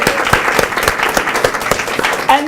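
Audience applause for a crew, dense and steady clapping from a crowd, loud and close throughout.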